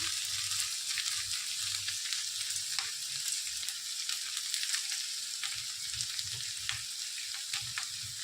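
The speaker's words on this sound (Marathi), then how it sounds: "बघा, कशी मस्त भाजली आपली भेंडी।" Okra for masala bhendi fries in a pan, a steady soft sizzle with repeated light stirring scrapes and clinks close by, with no talk over it.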